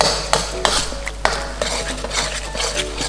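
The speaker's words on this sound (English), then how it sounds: "putting a ladle of oil in, I like to cook it for a minute" Black beans cook in oil in a pan while being stirred, producing a steady loud sizzle broken by sharp, close scrapes and clinks of a utensil against the pan.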